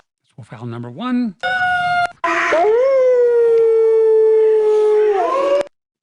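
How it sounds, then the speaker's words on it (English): A wolf howls in several phrases: short rising yips first, then a long sustained howl that bends upward and holds steady before falling away, clear and close with no talking. "Wolf howl number two."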